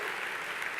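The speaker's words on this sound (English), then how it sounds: "Let's hear some applause." Brief burst of audience applause at a large Esri user conference, steady dense clapping with no voices, short and fairly even in loudness.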